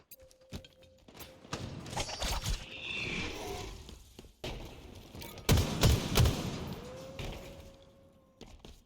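Gunfire in the Halo video game, with scattered bursts of rapid shots, thuds and explosive blasts, including a loud cluster near the end, mixed with game effects and no speech.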